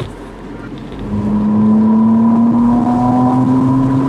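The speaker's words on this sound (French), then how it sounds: "La Artura Spider est animée par un moteur V6 3 litres double turbo." A 2024 McLaren Artura Spider with a 3-litre twin-turbo V6 and electric motor accelerates, its engine note rising steadily in pitch and loudness from a quieter start.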